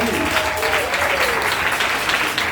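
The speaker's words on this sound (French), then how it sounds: "On acclame le Seigneur Jésus pour sa vie." A church congregation applauds steadily throughout a Palm Sunday service, with dense continuous clapping and a voice faintly audible beneath it.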